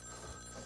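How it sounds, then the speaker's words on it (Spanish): A telephone bell rings in a domestic scene from a 1989 Mexican drama film, a steady electric ring heard alone and close. "¿Qué, no oyes el teléfono?"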